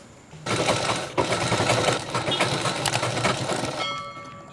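A sewing machine stitches down the folded edge of a chudidhar bottom pocket, a dense, fast mechanical chatter that starts abruptly, runs steadily for about three seconds with one brief hitch, then stops, close and loud.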